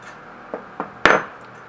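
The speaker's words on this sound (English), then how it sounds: "And now I need to hammer it down because it kind of" Three sharp hammer taps on a wire ring being shaped for an ankh necklace, close and distinct, each louder than the last, the third ringing briefly before fading.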